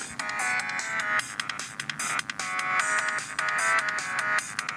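Short looping music from the Asphalt Urban GT mobile phone game, thin and tinny tones repeating every couple of seconds from a small phone speaker, fairly quiet and alone.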